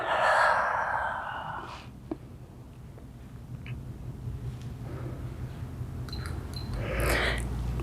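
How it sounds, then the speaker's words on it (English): A person breathing during a gravity yoga hamstring stretch, drawing air in through the nose and out through the mouth. A long, audible exhale comes first, then quieter breaths, and a deeper breath rises near the end over a low background hum. "Breathe in through your nose, and then out through your mouth."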